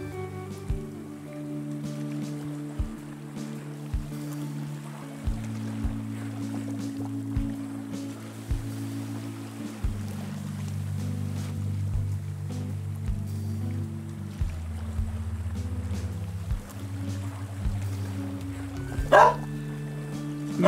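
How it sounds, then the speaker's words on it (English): Several dogs bark in short, muffled bursts at a steady rhythm, somewhat distant, over a low humming background of music. "In case you couldn't hear by all the dogs barking."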